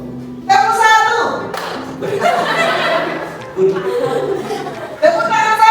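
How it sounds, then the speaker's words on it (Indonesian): A class claps on cue in a classroom, several distinct bursts of group clapping separated by short gaps, each set among chatter, voices and light laughter. "Tepuk satu."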